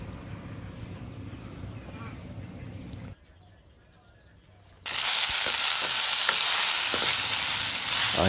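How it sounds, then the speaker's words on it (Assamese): Kundoli and potatoes fry in a home kitchen pan, a loud steady sizzle bursting in halfway after quieter outdoor background and a short lull, with some talk and faint clatter. "মায়ে দুপৰীয়া খাবৰ কাৰণে কুন্দুলি আৰু আলু ভাজি আছে"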